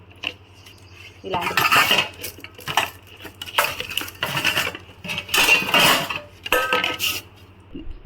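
Large steel pots, a big pressure cooker and utensils clatter and clink in repeated bursts, close and fairly loud, with quiet pauses between the handling.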